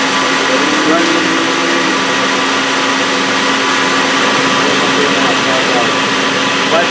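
The spindle of a Citizen M20V 10-axis CNC Swiss lathe runs up to 5,000 RPM, producing a loud, steady machine whir with a constant tonal whine and no obvious change in pitch.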